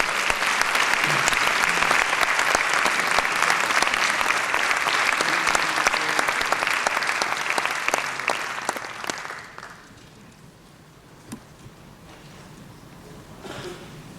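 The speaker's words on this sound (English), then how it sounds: "Let's give him a huge round of applause." An awards-ceremony audience gives a long, full round of applause for a recognition award recipient, loud and dense for about nine seconds, then tapering off into quiet room tone with a few stray claps.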